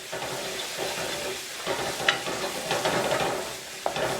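Masala mushrooms sizzle steadily in a pot while being stirred and moved around, a close, continuous frying hiss with brief spatula scrapes and clicks and no talking.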